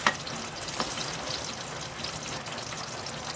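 Tofu (tokwa) sautés in a pan, a steady close sizzle with faint stirring scrapes, without talk.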